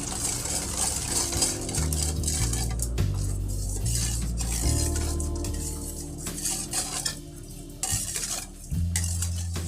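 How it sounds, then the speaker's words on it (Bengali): Ingredients being mixed in a bowl for chole bhature dough, with steady scraping and clinking of a utensil against the bowl, continuous and close, with dull rhythmic stirring throughout. "ভালো করে মিক্স করে নিতে হবে"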